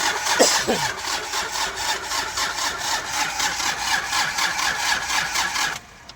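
A Hyundai Porter II with a D4CB diesel engine being cranked during a hard start, a loud rhythmic starter churn pulsing steadily for several seconds before cutting off abruptly.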